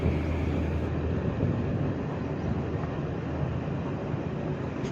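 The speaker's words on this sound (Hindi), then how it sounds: "आप देख सकते हैं ट्रेन गोलाई ले रही है, राउंड में चल रही है।" Green Garib Rath Express train rounding a curve on the way into Ujjain, a dense, continuous rumble of wheels and carriage noise heard from inside, loud and steady without a break.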